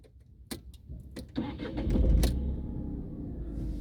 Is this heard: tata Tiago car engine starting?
yes